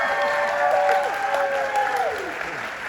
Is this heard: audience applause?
yes